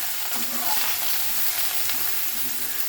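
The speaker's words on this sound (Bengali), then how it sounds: "এইভাবে নাড়িয়ে নিচ্ছি লাল লাল করে ভাজতে হবে এটা" Spices sizzle and fry in a hot pan while being stirred for a vegetarian eggplant dish, a steady crackling hiss with occasional scraping strokes of the spoon close by.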